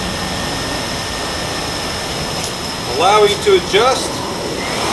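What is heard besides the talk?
Blade 350 QX quadcopter drone motors at 60% throttle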